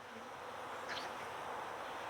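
Honey bees buzzing on a hive frame lifted from a flood-damaged hive, a soft continuous drone of many insects close by, faint and steady with no talking.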